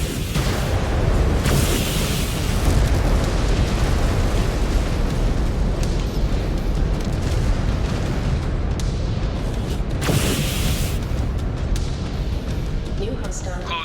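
Mechs and bombers blowing up in MechWarrior Clans, a continuous loud rumble of booms and bursts with two sharper blasts standing out, under radio-style voices talking throughout.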